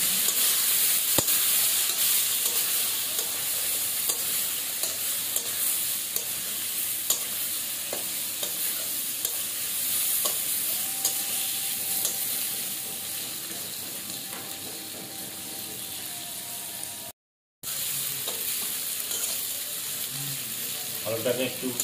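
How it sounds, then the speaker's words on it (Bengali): Potatoes with turmeric fry in a pan, a continuous loud sizzle with occasional spatula scrapes and a faint background tone, interrupted by a brief cut near the end, no speech. "আলুটাকে একটু ভেজে নেবো বেশ সুন্দর করে"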